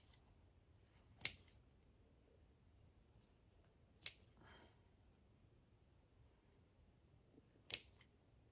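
Scissors snip through embroidery stitches on a sampler, three crisp isolated cuts spaced a few seconds apart in an otherwise quiet room.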